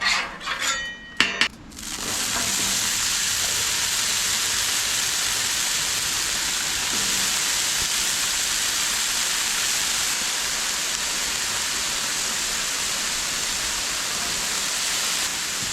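Fries dropped into hot avocado oil on a high-heat griddle set off a few clattering knocks, then a steady, even hiss of frying that runs unbroken to the end.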